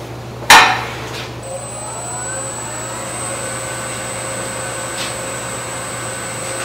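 A wood lathe turning a wooden pottery jug with a plug spins at steady speed, a sharp knock at the start followed by an even motor hum with a rising whine that holds through the rest.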